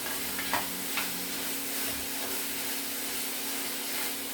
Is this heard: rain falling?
no